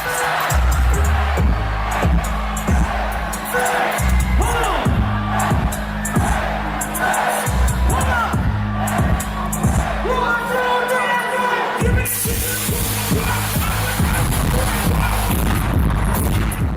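A packed festival crowd roars and cheers as a rapper takes the stage at the Lyrical Lemonade Summer Smash, loud and continuous over pounding bass-heavy music with booming low thumps throughout.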